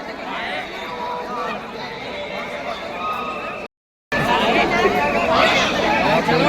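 A dense crowd packed close together at Sangam Ghat during the 2025 Mahakumbh in Prayagraj. Continuous loud babble of many voices fills the air, broken by one brief dropout to silence.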